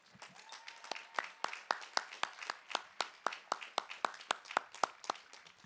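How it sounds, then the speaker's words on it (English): Steady, faint clapping from a small group at a college commencement ceremony, the claps coming in a fairly even rhythm with a few sharper hits standing out. "a big round of applause"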